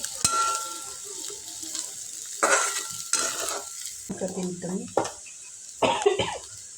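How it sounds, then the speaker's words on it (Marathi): A spoon stirs and scrapes spiced dry potato curry in a pan, with several distinct scraping strokes in bursts over a faint sizzling hiss. "पुन्हा एकदा व्यवस्थित मिक्स करून घेते"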